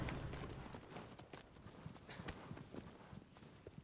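Horse galloping in the video game Shadow of the Colossus, a fast continuous run of hoofbeats at steady rhythm, fairly close and alone without talk.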